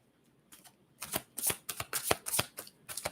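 A tarot deck is shuffled by hand, starting with quiet handling and turning into a rapid run of crisp, close riffling bursts.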